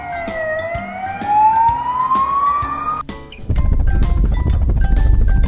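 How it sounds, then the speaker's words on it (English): An emergency vehicle siren wails loudly in a rising tone, then switches after a few seconds to a rapid yelping pattern over a heavy low roar of traffic and engine noise. "ambulance,"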